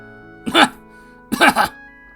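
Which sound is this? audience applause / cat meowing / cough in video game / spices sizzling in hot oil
cough in video game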